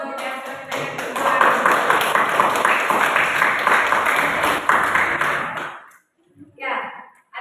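A classroom audience bursts into sustained applause, dense and loud clapping lasting several seconds before fading out, followed by a brief voice.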